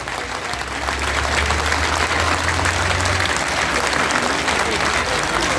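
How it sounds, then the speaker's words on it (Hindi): Sustained loud applause from a large crowd at a protest rally speech against the NRC and NPR in Jafrabad, Seelampur, dense and continuous clapping throughout. "ये जो तालियां आज आपने बजाई"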